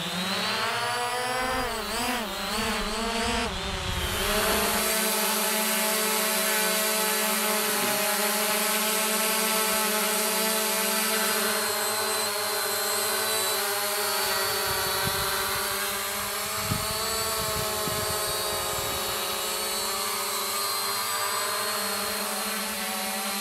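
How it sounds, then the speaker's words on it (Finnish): A ZLRC Beast Pro 2 drone takes off and flies, its rotors rising from a rough spin-up into a steady, loud, high-pitched whine with layered tonal hum that holds throughout, with no talking. "katsotaan, miten se drone lähtee lentoon."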